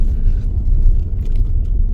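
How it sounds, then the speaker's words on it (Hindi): Heavy road traffic with trucks near Ranikhet, a dense low rumble of engines passing close by, loud and continuous without a break, with no talk over it. "ट्रैफिक बहुत ज़्यादा है और ट्रक बहुत चल रहे हैं"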